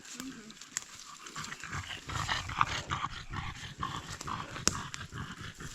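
A dog moving through wild, uncleared forest, panting and stirring close by while someone talks over it, with faint rustling underfoot.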